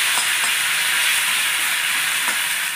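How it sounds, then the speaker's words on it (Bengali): Tomato sizzles loudly in a hot pan with coconut and asafoetida, a steady, close frying hiss that runs unbroken throughout. "তারপর এর মধ্যে দিয়ে দেবো টমেটো, এই যে এই টমেটোটা এর মধ্যে ফেলে দিলাম।"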